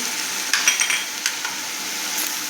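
Garlic paste with garam masala and red chilli powder roasting in a pan, a soft steady sizzle with a few scraping stirs and light clinks of the spoon against metal, close and alone.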